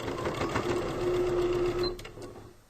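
A sewing machine stitches through four layers of pillowcase fabric, giving a steady close whirring hum for about two seconds before it stops abruptly.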